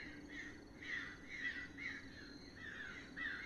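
Crows caw repeatedly in the video game Those Who Remain, a steady series of harsh calls at moderate distance over a low ambient hum, with no talking.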